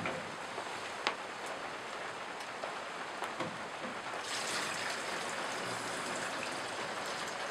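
Film stabilizer chemical for home C-41 colour film developing is poured through a funnel, giving a continuous close trickling splash with a few small drips, growing fuller and steadier in the second half.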